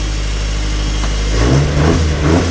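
A turbocharged Mazda Miata NB engine runs close by with a deep, steady low rumble that swells slightly as the revs rise in the second half.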